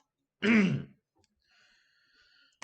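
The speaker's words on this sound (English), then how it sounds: "I've got a bit of a nasty cough going on." One harsh, raspy throat-clearing cough, close and loud, followed by near silence with a faint background tone.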